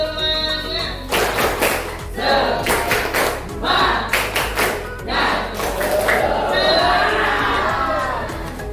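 A group of standing students claps a rhythmic 'tepuk semangat' routine in a classroom, with bursts of hand claps in patterned groups separated by short pauses and chanted voices mixed in.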